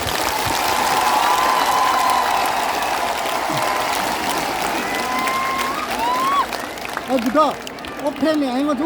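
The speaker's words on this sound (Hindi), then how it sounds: "सबसे बड़ा ताली आपको होना चाहिए।" Steady crowd applause fills the space for several seconds at an MoU agreement signing event, dense and continuous, with a few voices and whoops rising near the end.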